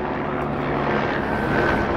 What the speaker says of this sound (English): News chopper.